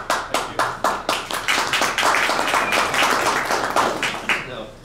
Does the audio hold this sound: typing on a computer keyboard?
no